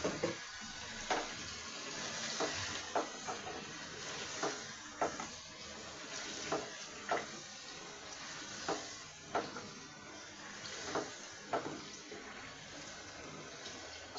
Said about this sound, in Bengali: চাল কুমড়োটা ভালো করে কষাবো